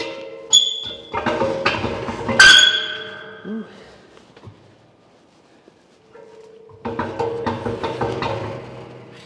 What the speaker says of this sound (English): I'm just going to move the air compressor out of the way